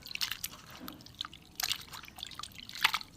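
Water dripping and trickling off paneer being squeezed and washed by hand, a few short wet splashes and dribbles spread across a few seconds, fairly faint and close.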